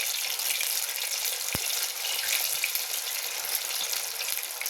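Coriander wadi (kothimbir wadi) frying in hot oil over a high flame, a steady bright sizzle running throughout with a single sharp pop near the start, close and continuous with no talking.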